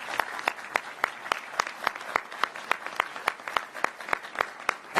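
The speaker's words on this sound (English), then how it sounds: "Please give yourselves a round of applause." A town hall audience on a proposed Philadelphia 76ers arena applauds, a crowd of hands clapping over a steady bed of applause, with crisp, regular, loud individual claps standing out nearby throughout.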